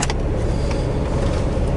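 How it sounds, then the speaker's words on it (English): A 2015 Audi S4 engine runs at high RPM, a loud, steady, broadband engine roar heard from inside the car, sustained without pauses and with no talking. "It's such a fun feeling just having the car go at that high of an RPM."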